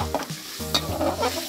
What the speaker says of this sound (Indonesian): Panaskan margarinnya dulu ya, Lur